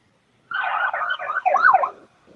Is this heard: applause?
no